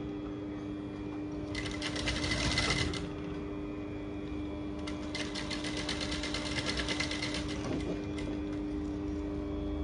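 Sewing machine stitching crinoline ruffle onto a baby girl's dress, running in two bursts of rapid, even needle chatter with a quieter steady motor hum between them, close and alone without talk.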